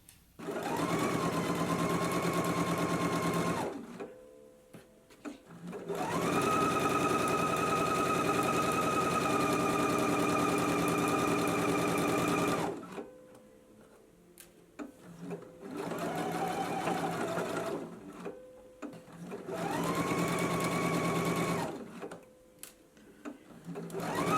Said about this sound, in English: I'm going to go ahead and stitch them in place and then finish off the raw edge